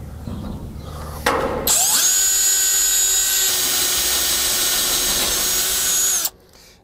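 A power drill spins up and grinds loudly into a metal garage door lock, a sustained high-pitched whine that holds for several seconds before cutting off abruptly.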